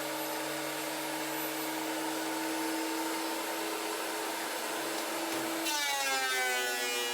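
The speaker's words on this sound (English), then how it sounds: "It is really satisfying using this machine to see the wood come out just absolutely smooth and perfect" A wood planing machine cuts hardwood for a box, giving a loud continuous whine and roar that holds steady, then shifts to a brighter, wavering tone near the end as the board runs through.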